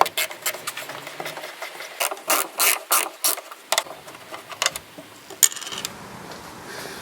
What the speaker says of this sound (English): So I need to unscrew those screws and then try and lift those nails.